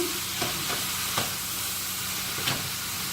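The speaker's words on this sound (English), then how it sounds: "We're going to turn this off and stir this one more time" Stir fry pasta salad being stirred in a pan with the heat just switched off: a steady soft sizzle with a few distinct scraping strokes from the utensil, close and alone.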